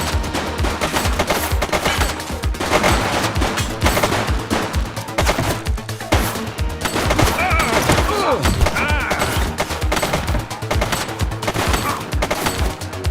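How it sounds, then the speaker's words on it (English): Heavy exchange of gunfire in a police shootout, a loud, continuous fusillade of close shots and thuds layered into a chaotic barrage. "She's shooting!"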